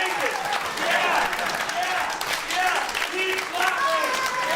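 A comedy club audience keeps up steady, full applause, the clapping dense and unbroken while someone calls out loudly above the crowd.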